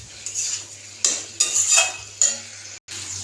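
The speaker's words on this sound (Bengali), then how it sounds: "তো বন্ধুরা মশলাটা ভালো করে কষানো হয়ে গেছে" Spice paste for a Bengali fish curry stirred and fried in a pan, a steady sizzle under repeated scraping strokes of a spoon against the metal, close and fairly loud, with no talking.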